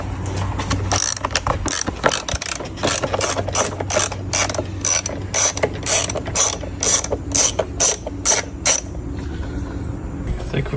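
A ratchet unscrewing intake muffler screws on a 2021 BMW M340 with the B58 engine, rapid close clicking in long runs over a low background hum.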